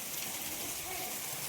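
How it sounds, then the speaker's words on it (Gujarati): Heavy rain falling steadily with gusty wind, a faint, even wash of hiss with no distinct drops standing out, brief and distant. "બાકી તમે જોઈ શકો છો ફૂલ વરસાદ"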